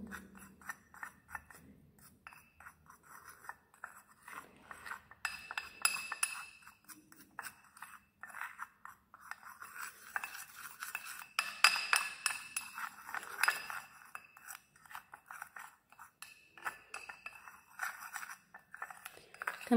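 Castor oil and baking soda are stirred together in a glass bowl, giving a quiet, steady run of scraping strokes and light glassy clinks with no talking.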